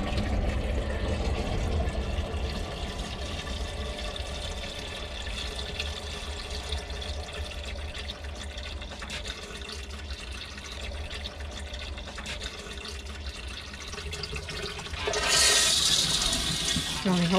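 Water is poured into an RV toilet bowl and then flushed, a long steady trickling and splashing near the bowl that swells into a louder rushing flush at the end.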